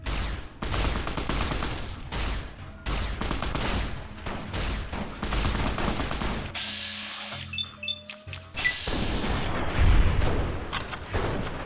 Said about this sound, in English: you're shooting me up with that gun